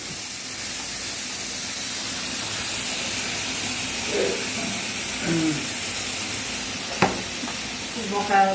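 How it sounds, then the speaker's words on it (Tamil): Mutton frying in a pan with a continuous loud sizzling hiss, broken by a few scraping stir strokes and a sharp clank of the utensil near the end. "கறி போட்டு ஒரு கிண்டு கிண்டணும்"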